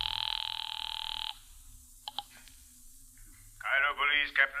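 A telephone bell rings in a steady continuous burst at the start of an old-time radio drama, then stops; a couple of faint clicks follow before someone speaks on the line near the end.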